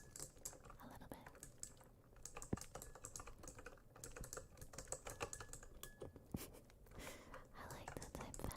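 Close, steady typing on a mechanical computer keyboard, a dense run of sharp key clicks over several seconds with a brief louder clack partway through and faint whispering underneath.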